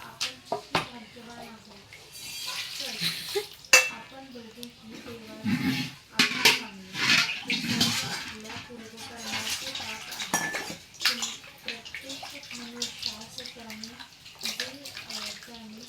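River fish are rinsed in a metal pot of water, with sloshing, splashing and clinking of fish against the vessel, intermittent and close, while someone talks over the washing.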